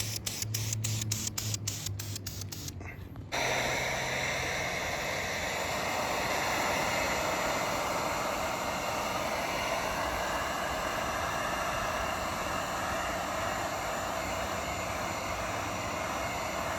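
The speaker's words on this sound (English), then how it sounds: "So I just hit them little touch-up spots and dry it again with the heat gun." A heat gun blows steadily to dry touch-up paint on a car bumper, a loud continuous roaring hiss that holds without break after a brief patch of clicking at the start.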